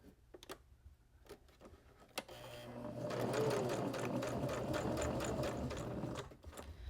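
A sewing machine stitches a seam on a fabric cord keeper, starting after a few scattered clicks and handling sounds, then running steadily in a fast close mechanical chatter for about three seconds before stopping.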